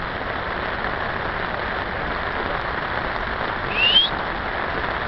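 Heavy rain pours steadily onto a fishing pond, a dense, even hiss that holds throughout with a brief louder swell near the end.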